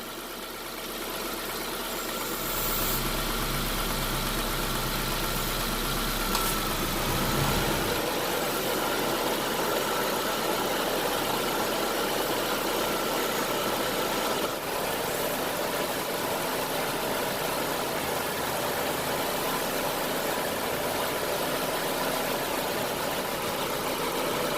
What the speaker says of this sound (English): As soon as we start filling up the AC system, the compressor is going to kick on.